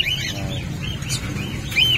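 Pet birds, including parblo opaline and pastel parakeets, chirp and tweet in a bustling bird market, with several high calls overlapping over a constant low background hum.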